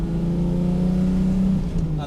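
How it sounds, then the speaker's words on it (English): A 1970 Mercedes 280SE, a 108-series saloon with the M130 straight-six and manual gearbox, accelerating nearby with a steady, rising engine drone that eases off toward the end, with voices talking over it. "There's nothing that sounds like a 108 with an M130 engine,"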